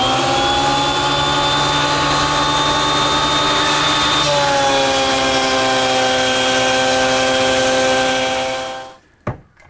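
A wood planer with a wide cutter head thins lumber in a garage workshop, a loud whining mechanical drone with sharp tonal harmonics that shifts pitch midway as the stock feeds through, then winds down and stops near the end.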